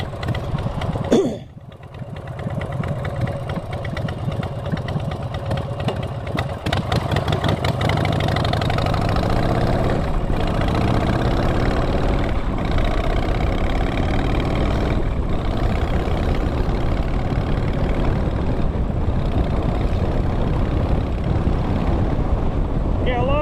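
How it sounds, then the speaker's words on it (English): Motorcycle engine, a cruiser such as a Road King, giving a short rev then settling into a steady, loud idle in neutral, a continuous low throbbing drone close by for the rest of the clip. "Notice how I'm giving a little rev before I flip it to neutral."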